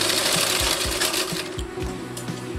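Loud, close sewing machine stitching along salwar fabric for a kalidar salwar, a brief continuous whirr with a rapid rhythmic thump from the needle.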